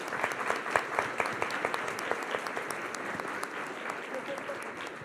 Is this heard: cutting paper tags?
no